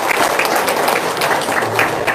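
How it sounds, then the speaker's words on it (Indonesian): Audience clapping and cheering at a crowded live seminar, a dense, steady wash of applause with no pauses over a couple of seconds. "Tepuk tangan dulu dong dari Lampung."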